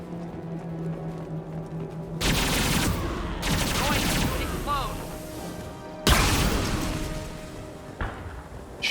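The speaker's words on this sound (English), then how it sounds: "Scorch, the Geth Pulse Rifle just melts everything now" Rapid bursts of Geth Pulse Rifle fire in Mass Effect 2 erupt loudly in several long volleys, with explosive booms and crashing impacts layered over game effects and a voice underneath.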